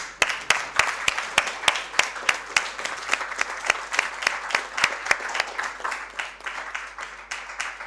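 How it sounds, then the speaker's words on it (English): A lecture audience breaks into sustained applause, many hands clapping in a dense, even patter that stays fairly loud before slowly thinning out, with no voices heard. "Ladies and gentlemen, please give a big round of applause."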